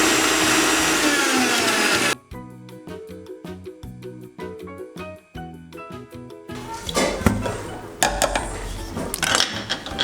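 Electric mixer grinder running dry on garlic, a loud whirring roar for two seconds, then choppy rattling pulses and clattering as the blades spin up and down in bursts.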